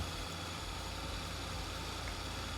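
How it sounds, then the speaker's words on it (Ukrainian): A T-150K tractor engine in Farming Simulator 22 running under load while driving, a steady, continuous low rumble and drone with no pauses, moderately loud and alone. "Гарно пішов трактор."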